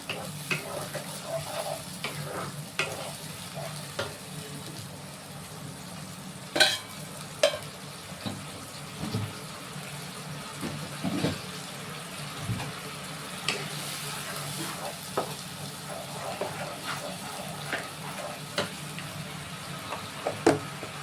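Spiced food frying and being stirred in a pan, a soft continuous sizzle broken by frequent scraping and clinking of the spoon against the pan, close and moderately quiet.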